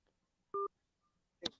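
Two-tone telephone keypad beep from pressing 1 to accept an incoming call on a sports call-in show, a single short clean tone followed a moment later by a brief clicky burst, otherwise quiet.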